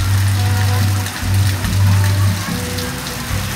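Heavy downpour on a hot dry-season day with no wind, a loud, steady roar of rain on surfaces. A low engine-like hum swells and fades beneath it, and the rain continues without pause.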